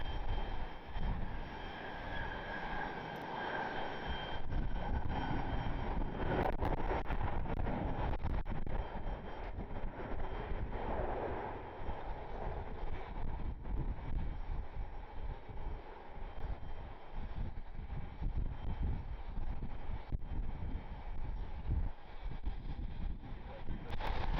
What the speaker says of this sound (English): American Airlines 2331, 737-800 inbound from Dallas-Fort Worth.